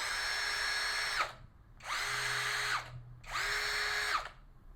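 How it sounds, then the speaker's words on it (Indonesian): An APR AP17+ cordless impact drill at speed 2 runs in three steady whirring bursts of about a second each, with short pauses between them, close-up and loud. "Kita coba mendengarkan bunyi speed 2."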